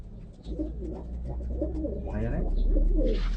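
Pigeons kept by an Iraqi pigeon fancier coo softly in a loose, repeating rhythm at close range, with low background hum and some outdoor noise around them.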